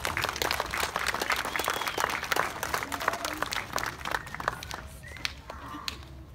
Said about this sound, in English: can we hold our applause for my perfect attendance?